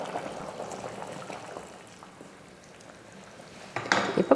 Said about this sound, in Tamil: தண்ணி ஊற்றி கொதிக்க ஆரம்பிச்சிருச்சு பாருங்கள்